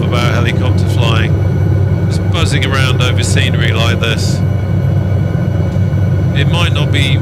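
An SA315B Lama helicopter in Microsoft Flight Simulator, cruising over Lofoten, Norway, gives a constant loud low engine-and-rotor drone, while someone talks over it in several bursts.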